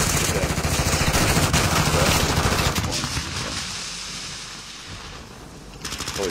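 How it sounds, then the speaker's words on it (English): Gunfire in a video game, a dense rattling burst of rapid shots up close that thins out and fades, then a short burst returns at the end. "you're getting shot at"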